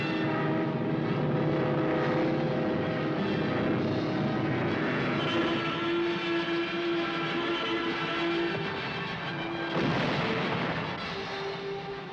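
WWII-era aircraft roar overhead in archival war footage from the North African campaign, a loud continuous engine drone with droning harmonics and rumbling blasts, no talk.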